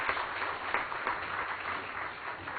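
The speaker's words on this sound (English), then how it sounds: "Please give a big hand to them." Audience applause at a launch event, a steady wash of clapping from many hands held evenly throughout, loud and close with no break.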